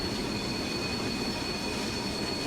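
A BR86 locomotive in Train Simulator 2016 running on the Mannheim to Karlsruhe route, with a continuous loud rolling rumble, rail noise and faint high wheel squeal, no voices.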